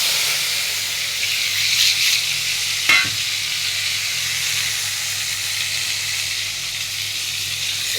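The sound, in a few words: sautéing tomato, onion, green chili and curry leaves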